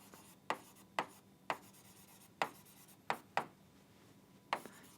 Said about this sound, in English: I will write it here